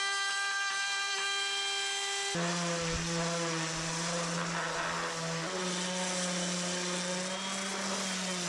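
A high-pitched power router whines steadily, then bites into the edge of a wooden board with a harsh, loud cutting roar that continues as the tool moves along.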